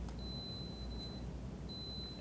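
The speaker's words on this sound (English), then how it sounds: "I'm going to hit sound alarm on the wallet" A Freedom Wallet's alarm sounds with a thin, high electronic beep that holds steady, breaks off briefly, then resumes over a low background hiss, with no one talking.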